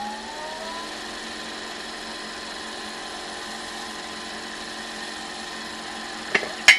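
Wood lathe turning slowly while Johnson paste wax is applied to a pen blank, a steady, quiet motor hum with a faint whine, ending in a couple of brief clicks or scrapes.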